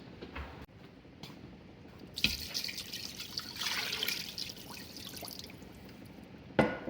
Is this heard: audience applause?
no